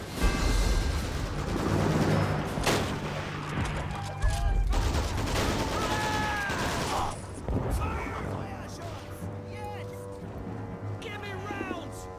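Dense gunfire and shelling in the World War II strategy game Men of War: Assault Squad, with sustained rattling bursts and heavier booms running continuously, someone talking over the battle throughout.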